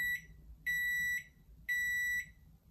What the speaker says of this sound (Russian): Печка просто пищит, в отличие от более дорогих моделей, в которых завершение разогрева подтверждается короткой мелодией.